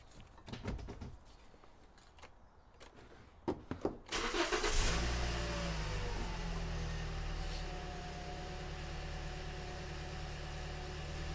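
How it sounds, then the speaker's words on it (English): A Toyota Auris, in for a rear ABS sensor and wheel bearing repair, has its engine cranked and started after a few clicks and clunks, then settles into a steady close idle. "let's start the car up."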